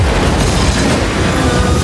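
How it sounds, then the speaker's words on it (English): A loud explosion in a TV drama trailer set in central London, a dense sustained rumbling boom that fills the whole short moment with no speech. "Explosion in central London."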